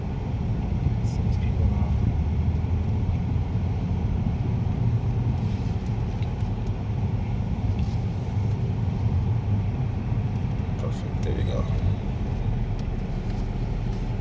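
A BMW G80 M3 being parked at the Kyalami racetrack gives a steady, low engine rumble throughout, with voices talking over it inside the car.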